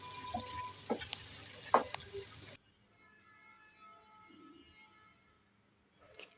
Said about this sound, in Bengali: এগুলো মিশিয়ে নিচ্ছি